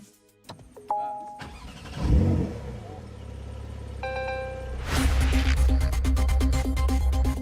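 A Porsche 911 Carrera S sounds a brief chime, then its engine fires up, revs sharply and settles into a loud, close, steady drone as the car pulls away.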